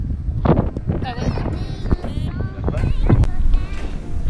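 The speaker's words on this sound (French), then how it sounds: "Il y a masse de vent, donc on va faire très attention avec le réchaud." Strong mountain wind at a dry, exposed spot by Lac d'Allos in the Mercantour buffets the microphone with loud, gusting roars, while people talk nearby.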